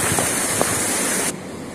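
Clear water rushing to drive a water-powered flour mill, a loud, dense, steady roar that drops off abruptly near the end, with no talk.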